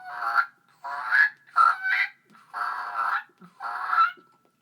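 A high-pitched waterfowl mouth call blown alone in five short honking bursts, close and clear with quiet gaps between them.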